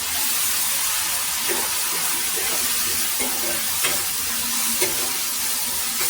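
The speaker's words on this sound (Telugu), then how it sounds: "ఆనియన్స్ మగ్గేంత వరకు కాసేపు కొంచెం సిమ్లో పెట్టుకుని వేయించుకుందాం" Onions and mutton kheema fry in a pan with salt and turmeric, a loud, steady sizzle with occasional stirring scrapes throughout and no talking.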